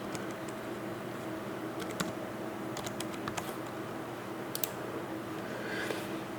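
Someone types a letter and a string of numbers on a computer keyboard: quiet, scattered keystroke clicks over a steady low room hum, with no voice.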